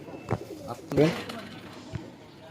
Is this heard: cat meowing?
no